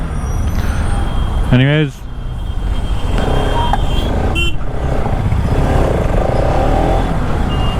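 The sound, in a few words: road traffic jam, cars and trucks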